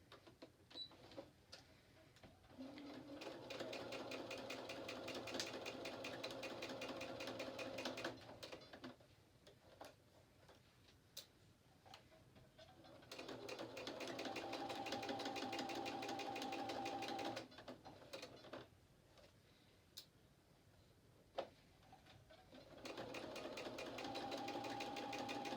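A sewing machine stitches the seams of a nine patch quilt block at a quarter-inch allowance, running in steady whirring bursts of several seconds separated by short pauses, close and moderately loud with no talk.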